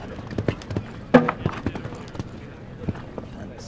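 Horse hooves clip-clopping in a cantering rhythm on an eventing show jumping course, a few moderately loud footfalls amid crowd ambience with someone talking over them.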